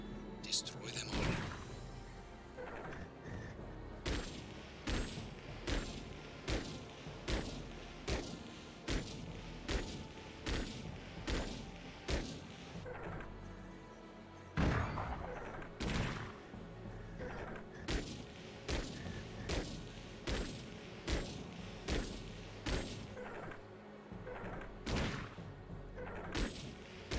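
Heavy gunfire from mech weapons in the Chrome Hounds video game: loud booming shots repeat roughly once a second for the whole stretch over a constant low rumble, with a few louder blasts mixed in.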